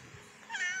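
A restless house cat meows once, a short, fairly close call rising out of quiet indoor background.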